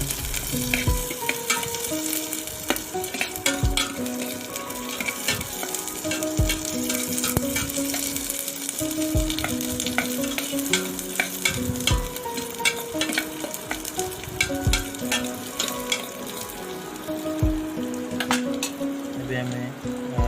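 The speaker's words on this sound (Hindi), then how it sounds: "भले से फ्राए कर" Egg and potato curry frying in a pan, with a steady dense sizzle and crackle and occasional stirring clinks, continuous and close throughout, with no voices.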